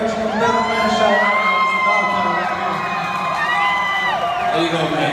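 A large crowd at a fight event shouts and cheers steadily and loudly, a dense roar with rising, whistle-like calls laced through it and no pause from start to finish.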